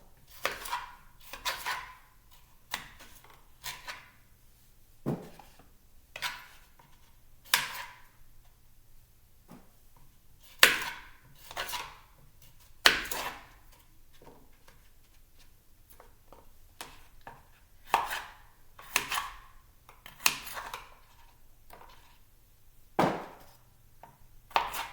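Knife chopping potatoes on a cutting board for a crockpot dinner, irregular clusters of sharp cuts with pauses between bursts, close and clear with no talking.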